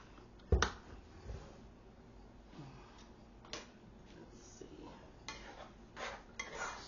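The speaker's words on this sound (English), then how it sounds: "Stir this rice up" A spoon stirs rice in a pot mixed with soy sauce for a budget beef chow mein, giving scattered clinks and scrapes of metal on cookware, one sharp knock early on and softer taps after.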